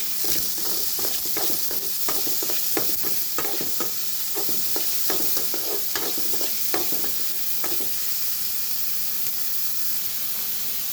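Vegetables and rice are stirred in a hot frying pan, giving a steady close sizzle broken by repeated scraping spatula strokes in an irregular rhythm throughout.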